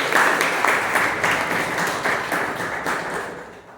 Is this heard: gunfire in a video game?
no